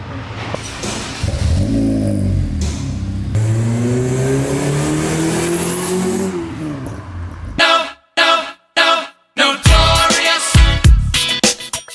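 A Honda Civic FD 1.8 engine revs up loudly, rising and falling in pitch, then a series of short sharp throttle blips with gaps between them, close by.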